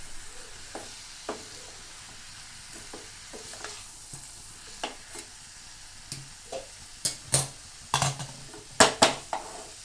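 Potato and green garlic curry cooks Sindhi style in a pan on a gas stove, with a soft steady sizzle broken by spoon stirs and sharp metallic scrapes and clinks that grow louder and more frequent toward the end.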